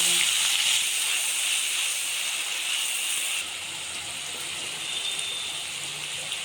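Onion hitting hot oil tempered with black cumin seeds, after fish was fried, gives a steady, fairly loud hiss and crackle that drops slightly in level partway through, with no talking.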